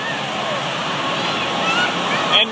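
Waves and splashing water in a wave pool make a steady, loud wash of broadband noise throughout, with voices talking over it and a brief splash near the end.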